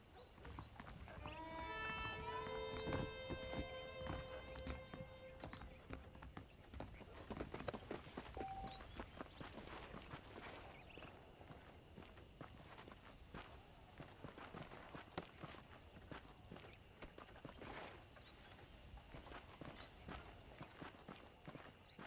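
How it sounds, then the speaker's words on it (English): Saddled horses in the video game Red Dead Redemption clip-clop along, with hooves beating in a steady walking rhythm at moderate distance. A brief tonal jingle plays near the start over ambient game sound. "The horses are saddled up over here."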